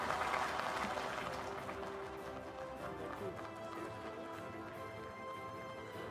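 Sustained audience applause at a SKOCH award ceremony, a steady wash of many hands clapping that stays loud and even throughout with no pauses.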